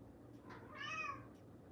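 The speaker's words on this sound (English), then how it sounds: "My cat agrees." A cat meows once, a short, clear call rising and falling over quiet background noise, fairly close and alone with no talk.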